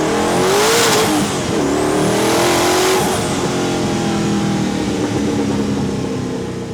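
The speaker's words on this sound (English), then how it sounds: "once you get into 3rd, 4th gear, this car just flies" A 1000+ hp twin turbo Ford GT accelerates hard, its engine revving up and shifting through the gears with rising and dropping pitch, loud and close, no voices over it.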